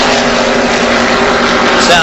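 A stock car engine running rough at the 1979 Daytona 500 drones steadily in the distance beneath a continuous race-track roar, its tone uneven and unharmonious.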